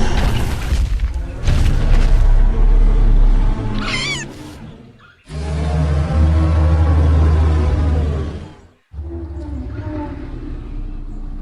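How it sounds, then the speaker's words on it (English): Loud booming calls of a female Apatosaurus as a documentary dinosaur sound effect, several long deep rumbling roars with growling texture, separated by brief pauses, close and powerful. "Her loud booming calls can be heard as far as up in the canopy of these trees."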